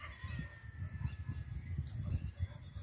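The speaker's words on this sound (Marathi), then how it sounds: "पक्ष्यांचा वगैरे मस्त आवाज येतोय." Birds call outdoors in a village at dusk, a faint, distant mix of honking, goose-like calls over a low rumbling background, repeating irregularly throughout.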